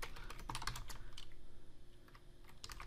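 Quick, uneven keystrokes on a computer keyboard as a Vault command is typed, close and clear with no voice over it.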